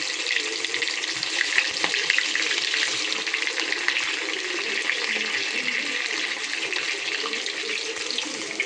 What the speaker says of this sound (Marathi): तेल तापत ठेवलं आहे आणि आपण एक एक लॉलीपॉप ना मस्तपैकी सोडूया.